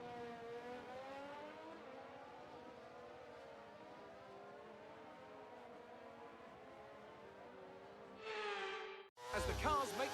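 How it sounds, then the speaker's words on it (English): Formula 1 cars on a formation lap at Singapore in the F1 23 video game, a steady, layered engine drone with several wavering tones throughout, then a louder burst near the end. "the formation lap gets underway and the excitement here is building as we near ever closer to the start of the race"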